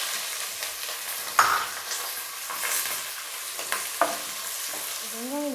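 Onion and green chilli fry in a pan with cardamom and fennel for peas pulao, giving a continuous close sizzle broken by a few sharp utensil clinks and stirring scrapes.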